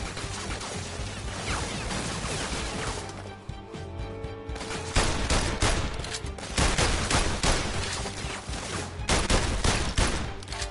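Constant loud gunshots in the VR heist shooter game The London Heist, rapid volleys continuing almost without pause and louder in the second half.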